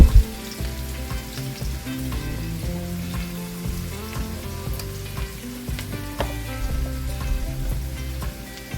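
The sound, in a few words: onions sautéing in oil in a pan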